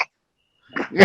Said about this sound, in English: I've sneezed about 500 times here